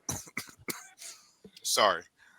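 Several close, harsh coughs in quick succession followed by a raspy throat-clearing rasp, loud and near.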